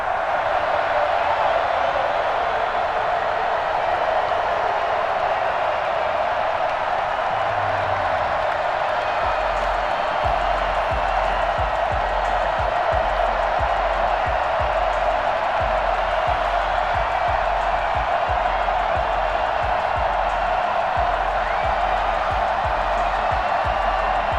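A stadium crowd in Kansas City in the Madden 21 video game, a dense, steady roar of many voices filling the whole stretch at an even level, with a low rumbling pulse joining partway through.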